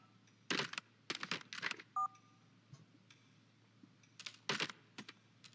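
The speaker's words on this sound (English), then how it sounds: "I called somebody." Phone dialing in the video game Surgeon Simulator 2013: a quick run of bright DTMF-style key beeps in short bursts, with a brief two-tone chirp in the middle, fairly quiet and with no talking over it.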